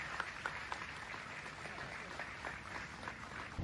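Audience applause fills an auditorium at a swearing-in ceremony for newly elected district council members in Tripura, a steady wash of clapping hands, moderately loud, continuing throughout.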